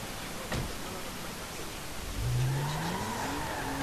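An Audi car engine in Grand Theft Auto V drones steadily under background noise, then rises in pitch as the car accelerates toward the end.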